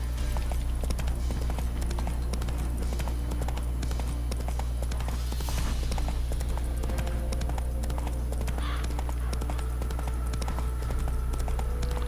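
Roach, the horse from a video game, gallops on steadily with rapid, rhythmic hoofbeats clip-clopping throughout, close and continuous over a loud low rumble.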